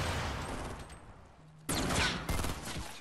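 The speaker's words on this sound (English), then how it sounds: "Oh, that's a grenade." A grenade goes off in Fortnite: a quiet lull followed by a sudden loud blast and crackling burst, with a second sharp burst just after.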